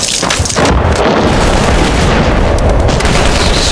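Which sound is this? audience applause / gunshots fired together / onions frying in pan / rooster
gunshots fired together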